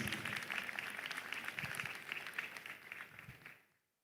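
At an Afri-Caribbean investment summit, a crowd applauds Professor Ada Agaji with a dense, fairly faint patter of many hands that holds steady and then fades out to silence near the end.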